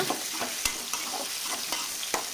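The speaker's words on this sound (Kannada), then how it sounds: "ಟೊಮೊಟೊ ಸೇರಿಸ್ಕೊಂಡ ನಂತರ ತಿರ್ಗಾ ಒಂದ್ಸಲ ಚೆನ್ನಾಗಿ ಫ್ರೈ ಮಾಡ್ಕೊಳ್ಬೇಕು" Eggplant and tomato frying in a pan for a village-style eggplant chutney, a steady close sizzle broken by repeated sharp scrapes of stirring, with no voices.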